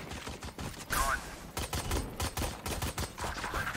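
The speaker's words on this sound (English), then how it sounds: "Swarm grenade out." Swarm grenade bursts in Valorant, a rapid series of sharp pops and crackles, close and fairly loud, with a brief whooshing chirp partway through and a trailing whir near the end.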